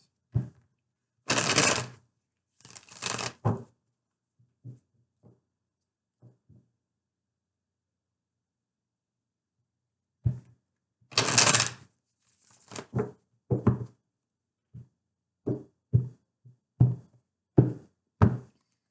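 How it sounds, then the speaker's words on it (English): Tarot cards are handled on a table in two bursts, with sharp slaps as cards are laid down and softer, scattered taps and shuffles in between, close and fairly quiet, with no voices. "Let me put down three more cards. Three more cards, please, for Scorpio."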